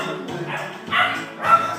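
A Havapoo puppy, a poodle and Havanese cross, gives a few close, high yappy barks and whimpers in quick succession.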